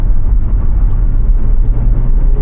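An Audi TT RS in sport mode accelerates hard with the windows cracked open, its engine a loud, dense rumble that holds steady throughout with no talk over it.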